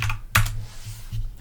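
Fingers typing on a computer keyboard in a few close, sharp bursts of clicking keys, with short pauses between them and no voices.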